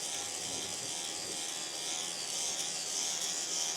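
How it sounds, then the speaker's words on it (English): A small electric razor shaving facial hair during a winter skincare routine, a steady close buzzing hum held throughout, alone with no talk. "I use this little like electric razor type deal that I got from TikTok shop"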